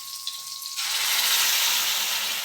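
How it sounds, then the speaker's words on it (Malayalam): Water pours into a pan holding a buttery paste for corn paneer butter masala, a steady broadband rush that starts abruptly and then rises into a continuous hiss and sizzle with no talk. "അല്പം വെള്ളം ഒഴിച്ചിട്ട് കുറച്ച് വെള്ളം ഒഴിച്ചിട്ട് നമുക്ക് ഒന്ന് ചൂടാക്കിയെടുക്കാം"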